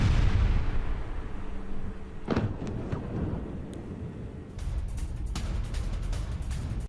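An attack in Iran produces a deep, rumbling explosion that rolls on with a heavy low roar, followed by sharper cracks and pops and a continuing noisy boom, loud and distant-sounding.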